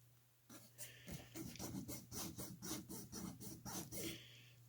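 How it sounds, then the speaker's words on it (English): A metal file rasping a small model railroad part, a rhythmic series of about a dozen close, even back-and-forth strokes, clear and alone. "Let me file some more off of it"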